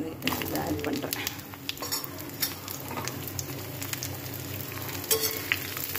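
Bitter gourd sautés in oil with garlic, a steady close sizzle with spatula scrapes and clinks against the pan, a voice faintly present in the background.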